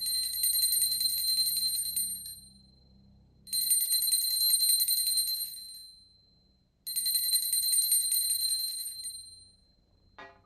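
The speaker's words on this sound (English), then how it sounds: "I'm going to ring it around the chart 3 times just to have the bell." A small handheld bell rung during a planetary pooja, three long bright ringing bursts with high sustained overtones, separated by short pauses, close and clear with no talk.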